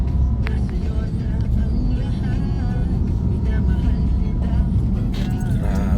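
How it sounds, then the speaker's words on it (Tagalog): Heavy road traffic in Metro Manila, a constant low rumble of idling and slowly moving cars and buses with occasional engine revs, steady and close. "Traffic talaga."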